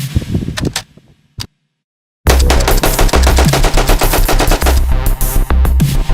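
A Polish Tantal rifle fires in rapid automatic bursts: a short burst, a pause of silence, then a long sustained string of loud, close shots.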